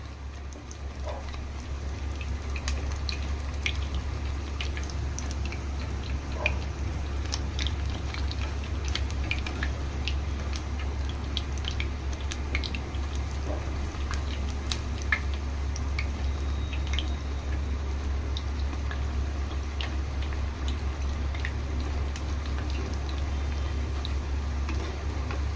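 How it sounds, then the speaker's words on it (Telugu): Sweet penilu deep-frying in oil over a medium flame make a steady, continuous bubbling crackle with scattered fine pops, even in level throughout and with no voices. "మీడియం ఫ్లేమ్ మీద పెట్టే ఫ్రై చేసుకోండి"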